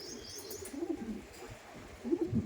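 Madrasi pigeons coo in low, soft bursts, one short run near the start and another louder pair near the end, with faint chirps above.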